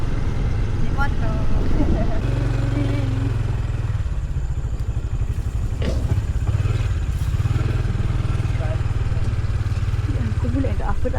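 A motorcycle engine runs close by in a rural area with grazing buffalo, a steady low drone with clattering and revving shifts, while people talk over it.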